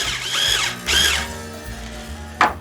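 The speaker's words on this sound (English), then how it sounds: "I've got my Ernie Ball string winder right here." An Ernie Ball string winder cranks a guitar string onto a tuner peg, giving two close whirring bursts of winding followed by a short sharp squeak, with no talking.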